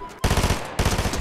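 Two loud close bursts of rapid SMG fire in the video game Fortnite, each a quick rattling string of shots, separated by a short pause.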